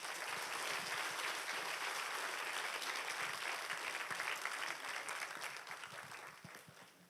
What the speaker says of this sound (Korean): 나오실 때 큰 박수로 목사님 우리 환영하겠습니다